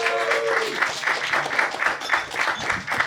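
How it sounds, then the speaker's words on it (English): Audience at a live comedy show claps and cheers in a dense, sustained burst of applause, close and lively, with a faint voice briefly underneath. "keep the applause going"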